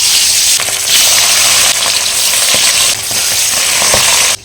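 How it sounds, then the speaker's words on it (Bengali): Rohu fish sizzles steadily in hot white oil over a heater, a loud continuous frying hiss with a few sharper crackles, heard alone throughout. "গরম তেলে মাছ দিয়ে দেবো।"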